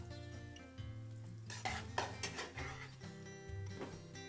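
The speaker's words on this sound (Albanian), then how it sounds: "në tigan me pak gjalp dhe pak vaj, kemi vendosur hungujt dhe" Food sizzling softly in a pan while a utensil stirs and scrapes, with light clinks of metal against the pan, over faint background music.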